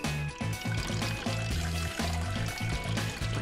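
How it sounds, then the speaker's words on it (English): Half a cup of vinegar pours into a bottle for a baking soda and vinegar balloon experiment, making a steady, close glugging stream with a regular pulsing rhythm as the liquid fills. "So, we need to pour 1/2 cup of vinegar into each of our 3 bottles."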